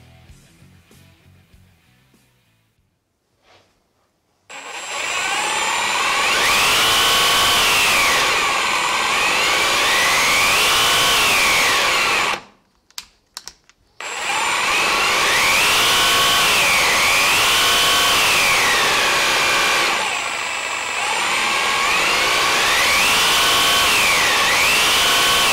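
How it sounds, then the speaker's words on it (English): A Milwaukee D-handle cordless jigsaw runs loud and close on its variable speed trigger, its whine rising and falling in repeated speed sweeps across two long bursts separated by a brief pause. "now I'm gonna let you hear what that variable speed trigger sounds like."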